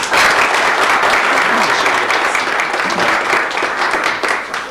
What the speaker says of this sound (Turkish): Zafer sanatçılarımızı alkışlıyoruz